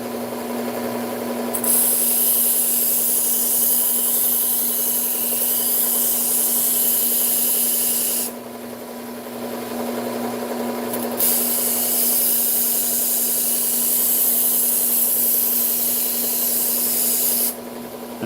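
A ceramic coated knife is sharpened edge-trailing on a guided sharpener, producing long continuous abrasive rasping strokes with brief pauses between passes, close and fairly loud with no talk.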